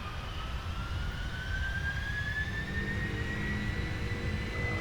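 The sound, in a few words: airliner jet engines spooling up at takeoff thrust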